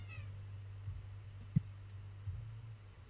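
A cat meows during a true-crime podcast recording, a short faint call rising early on, followed by low steady hum and a brief thump in the middle, with no speech.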